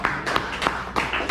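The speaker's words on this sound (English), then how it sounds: "Give them a round of applause" Sharp hand claps from a small audience at a community gathering in Hackney, each clap distinct and close, coming in an uneven burst of about five over a second.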